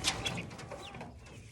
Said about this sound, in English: We got the lavender Orpington chicks in there.